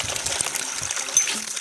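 Water hissing and spluttering from a newly installed tap on a water service line as air is purged, a close, steady rushing gush with small irregular bursts.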